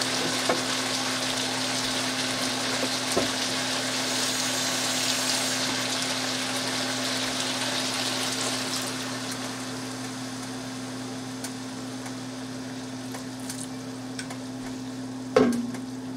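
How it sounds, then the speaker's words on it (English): A wild turkey stir fry sautés in a wok under a glass lid, giving a steady, moderate sizzle with a constant hum beneath it and a brief clink near the end. "Then I'm going to put a glass top on here and we'll let that saute in the wok."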